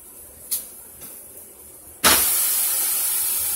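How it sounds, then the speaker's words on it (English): A brief soft click, then from about two seconds a loud, steady broadband hiss of a turkey burger sizzling on a hot grill, continuing without talk. "Oh, you hear that sizzle? That's right, folks. Cooking a delicious turkey burger."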